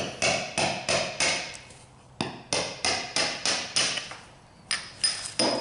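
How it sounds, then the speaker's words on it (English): Hammer tapping out the wheel bearings of a lawn tractor front wheel: about a dozen sharp metallic blows close by, struck in quick bursts of three to five with short pauses between. "Just tap it out."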